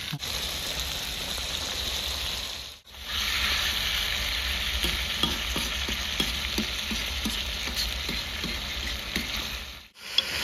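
Mutton for Rajasthani jungle maas, cooked village-style, goes into hot oil in a pan and fries with a steady, close sizzle and crackle. A brief drop near the start marks the pour, and light stirring clinks run through the frying, with no voices.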